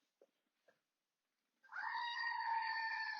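Screaming Goat novelty toy letting out a loud, sustained bleating scream of about a second and a half, preceded by two faint clicks, alone and close.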